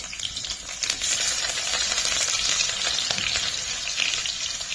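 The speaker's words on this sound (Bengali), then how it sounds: "শুকনো লঙ্কাটা যেই হয়ে গেল গরম, আমি এর মধ্যে দিয়ে দেবো পেঁয়াজ" Chopped onion drops into hot oil with dried red chillies for a chicken dish, setting off a loud, steady, close sizzle with a dense, bright crackle that holds for several seconds.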